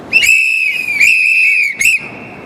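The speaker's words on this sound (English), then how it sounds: "you blow the whistle" A shrill whistle blown at a New York press conference, sounding as one long sustained blast followed by a short sharp burst, loud and close.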